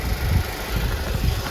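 Volkswagen GTI turbocharged engine breathing through an Integrated Engineering aftermarket intake, a steady low rumble with a faint turbo whistle, close and continuous, with no talk.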